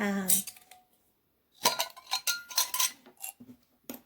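Pennies dropped into a jar, a few separate clusters of bright metallic clinks and jingles separated by short silences, close and fairly loud.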